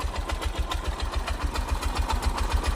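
Small engine of a Bajaj tricycle running after a carburetor repair, a steady rapid putter with even pulses, close and moderately loud with no one speaking.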